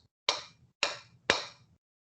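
A crystal glass held tightly in the hands is tapped three times in an even rhythm, giving short, close, dull thuds that die away at once with no ring.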